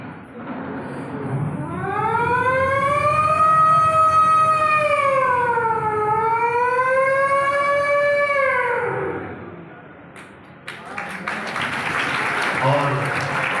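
A performer on a stage imitates an emergency vehicle siren with his voice, a loud rising and falling wail held for several seconds, close to the mic, followed by audience noise.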